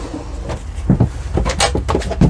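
A third kitchen drawer in a Dethleffs Trend 7017 camper van is handled up close: several short knocks and sliding thumps in quick succession, with no voices.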